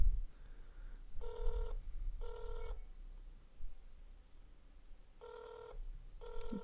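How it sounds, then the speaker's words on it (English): A telephone ringtone sounding during a customer service call: two paired bursts of bright, tonal ringing, a short gap, then two more, loud against quiet line noise with no talk. "What kind of ringtone is that?"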